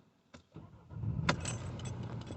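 A Mercedes car engine turns over and catches, settling into a steady running rumble after a few clicks and a brief jangle.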